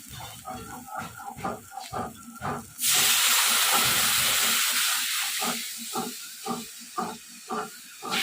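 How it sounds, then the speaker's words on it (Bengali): A curry bubbles vigorously in a pan after water is poured in, with a steady rhythmic bubbling throughout and a loud, sustained steamy hiss that surges midway and slowly fades. "আর একটু জল দেবো, ফুটছে তো তরকারিটা।"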